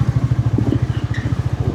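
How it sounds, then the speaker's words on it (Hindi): A motorcycle pulls away on the road from Chitkul to Sangla, its engine thumping in a fast, steady, close pulse with some light clatter over the top. "ये लो भाई, बाइक पे हम चल दिए।"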